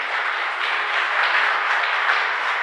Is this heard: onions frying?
no